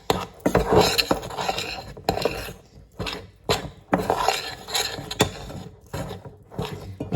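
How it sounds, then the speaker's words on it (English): A spoon scrapes and knocks in a bowl, mixing flour, salt and potato for gnocchi in irregular rubbing strokes separated by short pauses. Nobody speaks. "let's get a spoon to mix it all up"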